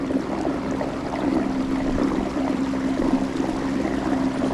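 A small boat motor runs steadily with a constant hum and churning water, cavitating as it pushes along at about 4.5 miles an hour with a rider and gear aboard. The sound is close and continuous, with no talk.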